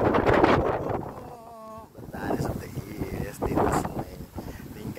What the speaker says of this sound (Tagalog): Talagang ang lakas lang ng hangin kasi nga ang taas niya.